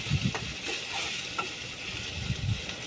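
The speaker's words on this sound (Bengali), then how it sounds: "এবার সবগুলো উপকরণ ভালোভাবে নেড়েচেড়ে দিব।" Onion with bay leaf, cloves, cinnamon and cardamom frying in oil for a beef curry, a steady soft sizzle with a few light stirring scrapes near the start and end.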